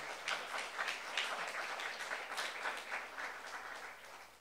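Steady applause from a church congregation during a Saturday youth worship service, a dense wash of many hands clapping at an even level throughout.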